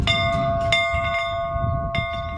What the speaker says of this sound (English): Once they hear the school bell ring, they go back in time.